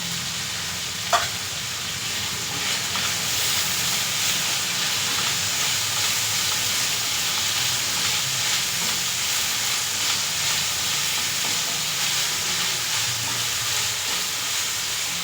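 Peas frying in a pan while wheat semolina upma is cooked, a steady close sizzle with light hiss running throughout and one brief clink near the start.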